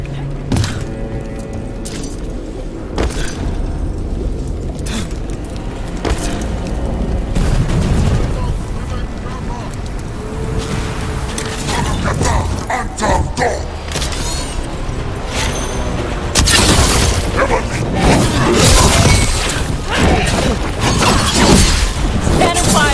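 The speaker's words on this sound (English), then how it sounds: "Cannon fire! Get clear!" Cannon fire thunders in the video game Dragon Age: The Veilguard, with loud repeated booms and crashing blasts over a dense, rumbling battle din that builds louder toward the end.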